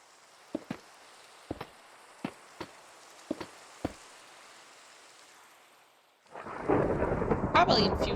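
A Minecraft thunderstorm brings a loud, steady rush of rain and thunder that swells in during the last couple of seconds, after a stretch of faint ambience broken by a few sharp clicks.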